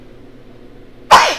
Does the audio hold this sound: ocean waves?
no